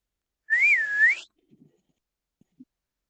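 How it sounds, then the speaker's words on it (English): A person whistles once to call a horse, a clear swooping note lasting under a second, followed by a few faint clicks in otherwise quiet surroundings. "I will do a whistle to bring it back"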